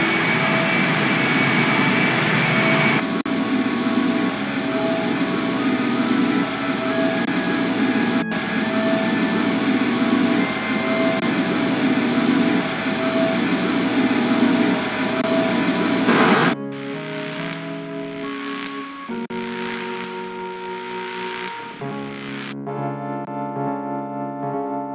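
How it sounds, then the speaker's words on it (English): An engine in I Have No Mouth, and I Must Scream starts up into a loud, steady droning whine that runs continuously, then shifts abruptly to a rougher, lower mechanical rumble with tonal hums near the end. "The engine's starting up again."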